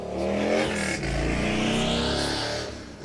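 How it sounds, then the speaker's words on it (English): A loud car roars past outside, its engine revving in a steady, heavy drone that swells and holds for about three seconds before easing off. "That was a loud ass car."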